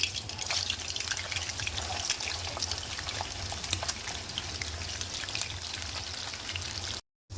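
Chicken pieces frying in hot oil on a stove at medium heat for chicken pickle, a dense and continuous close sizzle with crackling spatter that cuts out briefly near the end, with no voices.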